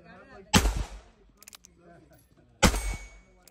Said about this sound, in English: So it's just shooting super high.